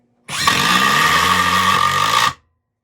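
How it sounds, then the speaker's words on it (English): A Metabo HPT 36V triple hammer impact driver runs in one continuous burst of about two seconds, a loud, steady, high-pitched mechanical whir with a buzzing hammering texture, starting and stopping abruptly with no talk. "this is a triple hammer, so it's got an additional hammer and anvil in here"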